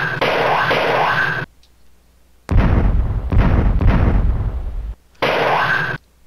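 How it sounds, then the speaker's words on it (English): Arcade Missile Command game sounds: a long buzzing whoosh, a pause, then a loud rumbling blast of explosions broken by brief cuts, followed by another buzzing sweep, all electronic and close with no talking. "You gotta protect your city from the evils of these missiles coming down to town"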